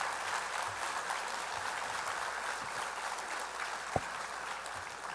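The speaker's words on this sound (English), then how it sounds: "They're going to applaud for you." An audience applauds pageant princesses being recognised at a State of the Nation event, a soft, steady wash of distant clapping with one brief sharp knock partway through.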